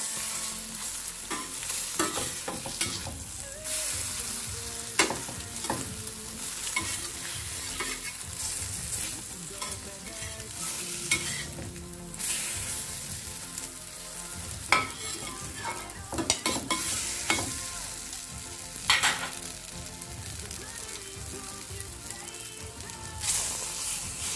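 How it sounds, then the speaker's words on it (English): Bread slices frying in butter in a pot for French toast give a steady, close sizzle, broken by frequent scraping and clattering as the pieces are moved and turned. "here we have some butter in this pot. And what I do, I'm just gonna put my bread in like that"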